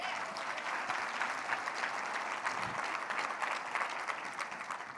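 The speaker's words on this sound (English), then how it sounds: "Give my brother a round of applause" A conference crowd at an opening keynote gives a sustained round of applause, dense overlapping clapping from many hands that holds steady for several seconds, with no voices over it.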